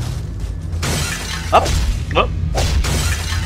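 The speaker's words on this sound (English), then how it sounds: "Okay, glass shattering, that's probably not a good thing." Glass shatters in the PS2 video game He-Man: Defender of Grayskull, with a couple of sharp crashing bursts heard over game noise while someone speaks briefly.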